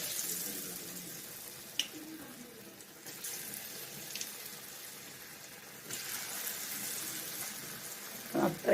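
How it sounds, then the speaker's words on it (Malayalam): Watermelon pieces fry in hot oil, giving a soft, steady hiss throughout with a few small pops and a brief louder flare near the end. "നമ്മൾ എണ്ണയിലേക്ക് ഇടാൻ പോവുകയാണ്. എണ്ണ നല്ല ചൂടായിട്ടുണ്ട്."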